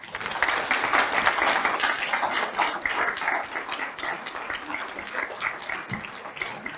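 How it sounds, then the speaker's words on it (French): Audience applause at a book-launch event for a writing contest, dense sustained clapping from a crowd filling the room, steady throughout with no speech over it. "Donnez-lui une bonne main d'applaudissements."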